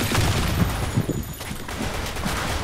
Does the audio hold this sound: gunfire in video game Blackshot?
yes